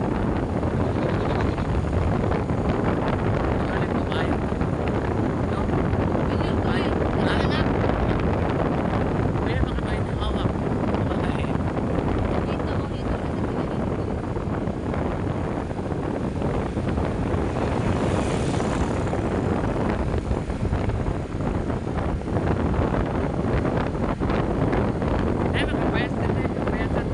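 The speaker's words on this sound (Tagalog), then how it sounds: "Ay, kay hangin." Strong wind roaring into the microphone throughout a boat ride, a steady loud rush with gusty buffeting and a faint motor underneath.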